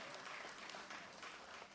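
Faint, distant applause from the crowd at an International Women's Day celebration, a soft continuous patter of clapping heard alone.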